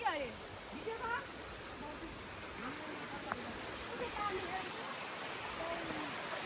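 A small stream flows in a botanical garden at Godawari, a soft, steady watery rush heard from nearby, with chirping birds or insects above it and faint voices in the background.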